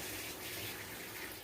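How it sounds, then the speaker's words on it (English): Running tap water pours over hands being washed at a kitchen sink, a soft steady gush lasting only a moment with no talk. "Let me wash my hands with my little finger."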